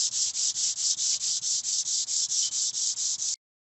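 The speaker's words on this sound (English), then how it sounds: "next sand with 220 grit sandpaper to get rid of any large scratches" Car body filler on a Nissan Altima being hand-sanded with 220 grit sandpaper, a loud, steady, rhythmic scrape of about fourteen even back-and-forth strokes that continues without pause, then stops abruptly.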